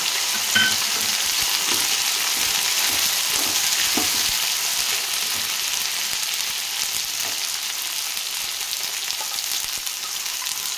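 Ginger garlic paste and coriander frying in a pan make a loud, close, continuous sizzle with scattered crackles and occasional stirring scrapes, heard alone.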